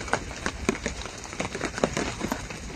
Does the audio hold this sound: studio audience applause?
no